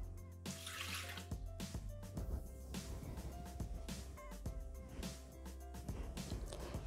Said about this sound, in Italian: Iniziamo la ricetta mettendo all'interno del boccale l'acqua.